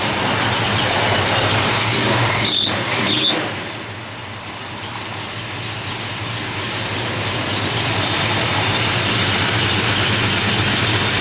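A 1970 Dodge Charger 500 idles steadily nearby with a mild cam. Its low rumbling engine note stays loud and continuous throughout, dipping slightly for a moment partway through.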